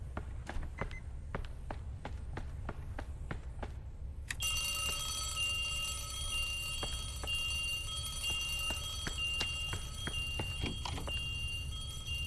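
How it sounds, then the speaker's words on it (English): A fire alarm in Subliminal starts abruptly partway through and rings continuously at a steady, loud, sustained level, preceded by a run of sharp regular ticks or taps. "I had to prank myself with a fire alarm."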